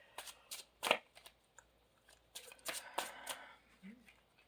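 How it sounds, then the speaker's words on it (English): Tarot cards being shuffled by hand, quiet and close, in a few quick riffling bursts separated by short pauses, with faint background noise between them. "Let's give them a good shuffle."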